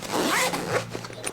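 A zipper on a Cordura modular 2-in-1 crossbody backpack is pulled open or closed in one quick, close, loud rasping run lasting about a second.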